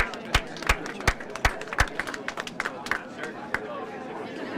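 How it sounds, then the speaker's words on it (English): At NASA Headquarters, a crowd of staff claps for an employee retiring after 37 years. Irregular, scattered hand claps of varying loudness sound over steady chatter and talking voices. "You could give that a round of applause."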